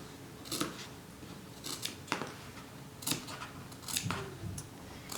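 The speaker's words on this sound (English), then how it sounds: "you need to clip as close to these threads as possible" Sharp scissors snip fabric close to the stitching threads of a lined bodice seam, about seven quiet, crisp clips spaced irregularly, with no talking.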